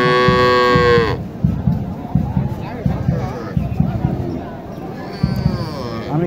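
Crossbred cattle at a livestock market in Naogaon, one long loud moo up close at the start, then the crowded, bustling market din with voices talking throughout.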